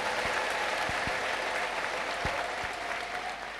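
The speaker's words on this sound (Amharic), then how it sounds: "ትልቅ ጭብጨባ አምጡለት" Church congregation clapping together in a continuous, even patter of hands with a few low thumps, moderately distant and without talk.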